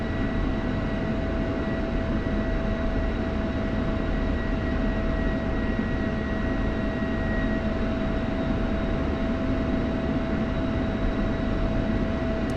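A simulated aircraft taxis on an airfield taxiway at night with its engine throttled up, producing a steady, continuous engine drone with a faint tonal whine that holds throughout without pause.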